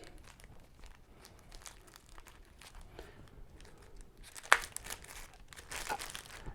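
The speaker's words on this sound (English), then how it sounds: "Then you get you a Ziploc bag." A Ziploc plastic bag is handled up close, its crinkling rustles running through the clip and building to a sharp crackle and a dense burst of crumpling near the end, with no talk.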